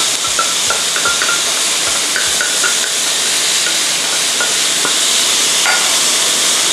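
Pork ribs with lemongrass stir-fried in a pan, giving a steady close sizzle and hiss with scraping stirs of the spatula repeating through the first few seconds.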